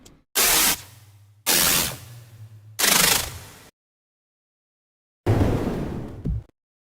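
Designed, heavily processed drum samples fire in four separate bursts of noisy, crunchy hits with a low droning tail, cut off abruptly into silence between them, loud and close with no voices.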